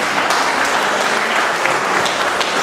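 A crowd at an Emancipation celebration evening event gives a loud, continuous round of applause for a woman who has just spoken, dense steady clapping filling the whole moment without talk.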